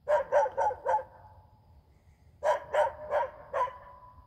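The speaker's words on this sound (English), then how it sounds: "This dog right here has charged me two or three times today." A dog barks in two quick runs of four sharp, fairly close barks, with a pause between the volleys and no voices over them.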